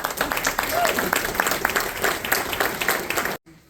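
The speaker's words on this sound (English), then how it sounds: "Another round of applause for Paul." An audience claps and applauds steadily for several seconds, dense and bright, then cuts off abruptly.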